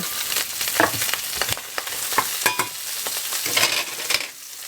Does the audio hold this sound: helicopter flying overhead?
no